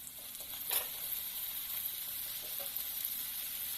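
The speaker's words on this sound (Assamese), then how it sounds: "তাৰপাছত ইয়াত মই এতিয়া বিলাহীখিনি দি দিম।" Tomatoes hit hot oil in a pan at home and sizzle steadily, a close, constant hiss with a brief louder burst as they land.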